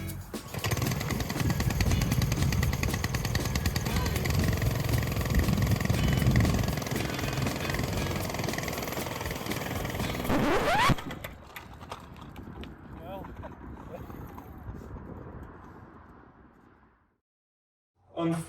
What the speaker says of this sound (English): Let's get those engines started.